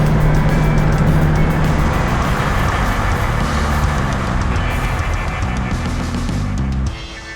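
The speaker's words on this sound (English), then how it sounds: "he might just recognize the noise of the Jeep" A Jeep engine rumbles close by, idling and rolling steadily, then drops off sharply near the end as it pulls up to a stop.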